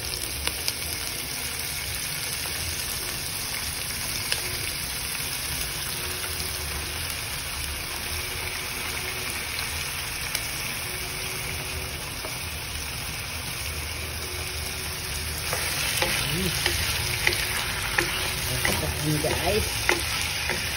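Chicken marinated in soy sauce and black pepper stir-frying in a pan, with steady loud sizzling and frequent scraping of a utensil that grows busier and more clattering in the final few seconds.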